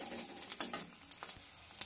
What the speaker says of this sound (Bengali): লাউ পাতাটা ভাজতে ভাজতে দেখুন অনেকটা কালো হয়ে গেছে, ভাজাটা প্রায় হয়েই গেছে।